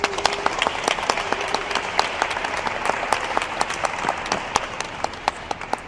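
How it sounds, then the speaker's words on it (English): A crowd applauding steadily for several seconds, dense clapping with a few sharper individual claps standing out near the front. "Big round of applause for Asia."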